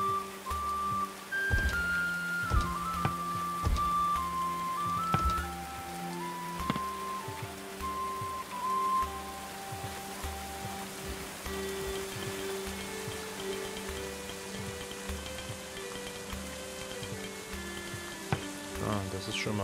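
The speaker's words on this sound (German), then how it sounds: "Es regnet aber die ganze Zeit." Rain falling in the medieval colony-building game Going Medieval, a steady hiss of dense droplets under soft melodic game music that runs the whole time.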